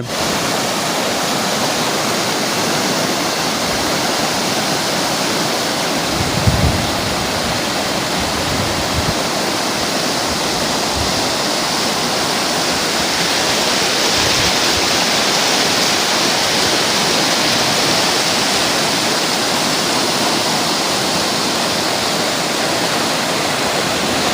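Heavy downpour and rushing rainwater in a residential area, a dense, continuous hiss of rain and flowing water that stays loud and unbroken for the whole stretch.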